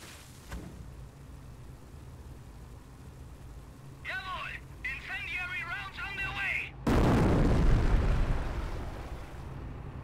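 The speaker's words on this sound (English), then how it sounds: "Continue to barrage the enemy squad until they are defeated." An artillery barrage in the tutorial of the World War II strategy game Company of Heroes. Whistling shells streak in over faint background voices, and then a loud, close explosion erupts and rumbles away.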